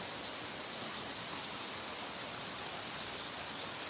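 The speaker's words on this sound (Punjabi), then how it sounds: "ਦੇਖੋ ਜੀ ਬਾਰਿਸ਼ ਫੇਰ ਇੱਕ ਵਾਰੀ ਕਿੰਨੇ ਮੂਸਲਾ ਧਾਰ ਬਾਰਿਸ਼ ਇਹਨੂੰ ਕਹਿੰਦੇ ਆ" Heavy monsoon downpour pours onto a house with a leaking roof and veranda, a dense, unbroken hiss of rain at constant loudness throughout, with no voices over it.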